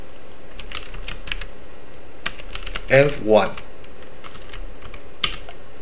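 Soft, rapid clicks of a computer keyboard as a conda environment command is typed, scattered light keystrokes throughout with a short spoken phrase in the middle.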